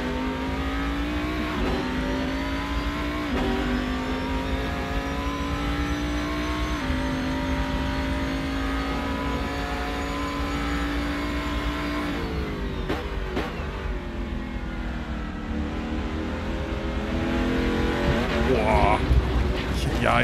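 A racing car engine roars steadily in Assetto Corsa on the Nordschleife, with pitch rising and falling through gear shifts and a brief skid near the end.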